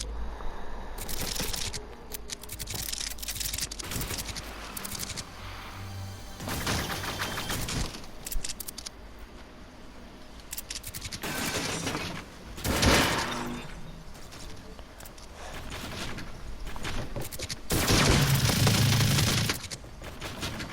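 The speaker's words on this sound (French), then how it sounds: "en rediffusion la PM elle fait un drôle de bruit" Rapid bursts of Fortnite submachine gun fire, several volleys in quick succession with sharp cracks and clatter between them, no talking.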